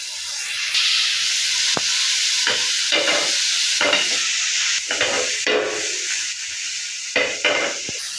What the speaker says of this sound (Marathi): ह्याच्यात आपल्याला पनीरचे जे आपण पनीर कट केलेले आहे ते आपल्याला ह्याच्यात शॅलो फ्राय करून घ्यायचे आहे